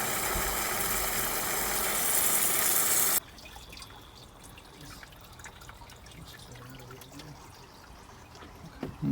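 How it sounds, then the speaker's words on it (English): Water gushes loudly from a 2008 Ford Territory radiator during a coolant flush, then drops abruptly to a quieter trickle and drip into a bucket. "there's the water coming out now"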